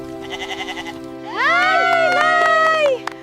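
Goats bleat loudly in a long, wavering cry lasting over a second, following softer repeated bleats, with a crowd murmuring in the background.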